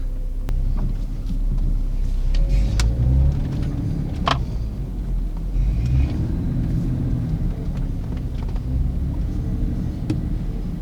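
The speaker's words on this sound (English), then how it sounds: "I'm gonna get driving." Car driving on a road, a steady low engine rumble and road noise with slight shifts in pitch, continuous and close for the whole stretch with no talking.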